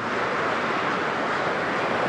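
Wind buffets a microphone outdoors on the road to Araku Valley, a steady, loud, broadband rush with no breaks and no voices.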